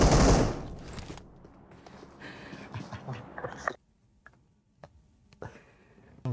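MG3 machine gun firing in a multiplayer shooter game, a loud opening burst followed by scattered shorter bursts and single shots at varying distances, some fainter in the background.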